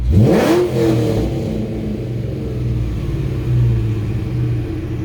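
A 2003 Ford Mustang SVT Cobra Terminator engine revs sharply up then settles into a loud, throaty burbling idle nearby.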